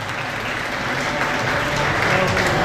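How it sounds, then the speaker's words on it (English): Audience applause at an annual function, a dense continuous wash of many hands clapping at once, loud and steady from start to finish, with some crowd voices mixed in. "Clapping for Yash Jinnadas"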